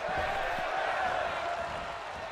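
A wrestling arena crowd roars and cheers in WWE 2K25 Universe Mode, a steady dense wash of crowd noise filling the whole moment, loud and continuous without pauses.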